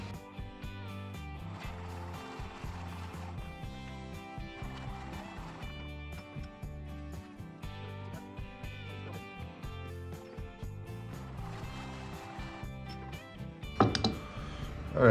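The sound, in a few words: 2-inch Forstner bit boring a recess in birch burl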